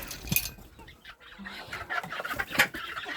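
Broody hen clucking in a farmyard, a few short throaty clucks and squawks near at hand over rustling, with no voices.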